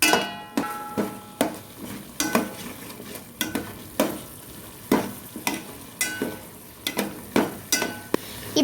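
Fish curry masala with tomato bubbles and sizzles in a pan while a spoon stirs it, giving sharp metallic scrapes and clinks at a steady rhythm, close and with no speech.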